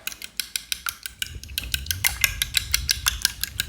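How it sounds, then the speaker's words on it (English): Two eggs being whisked in a bowl for a Texas-style chicken fried brisket steak batter, a rapid, steady series of sharp utensil clicks and taps against the bowl, close and clear with no talking. "I'll go ahead and put 2 eggs. Whisk it up"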